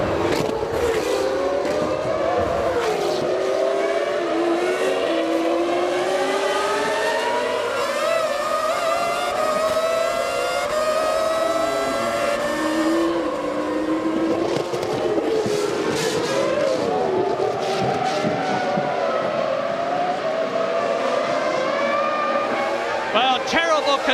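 Formula 1 cars racing at the 2000 Canadian Grand Prix in Montreal, Villeneuve chasing Coulthard's McLaren: high engine notes whine and sweep up and down through gear changes, loud and continuous, with commentary talking over it.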